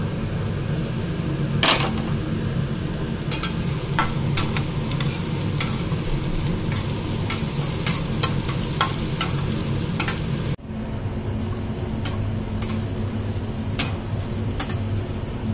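Potatoes and pointed gourd fry in a pan with a steady, loud sizzle and scattered ticks and scrapes of stirring, a short break near the end, no one talking.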